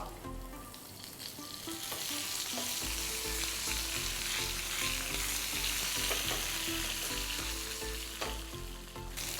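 Steady, loud sizzling of cumin seeds and green chillies frying in hot oil, crackling and popping continuously with occasional stirring clinks.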